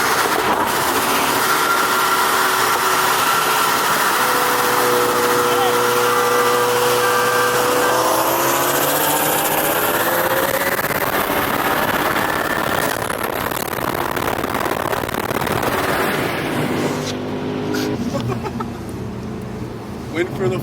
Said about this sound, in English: We're in the supercharged Mustang Vortec V3